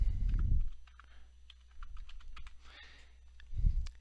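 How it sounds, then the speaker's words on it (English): Fingers tap out an IP address on a computer keyboard, a quick run of close, light key clicks with short pauses between bursts, bracketed by two low thumps and a steady low hum underneath. "type in the IP address into your web browser"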